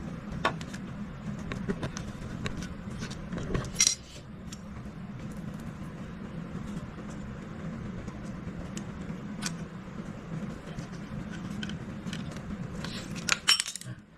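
Nuts being turned while a K2 PCP air gun is put together, heard as scattered metallic clinks and small taps over a low steady hum, with a couple of sharper clatters.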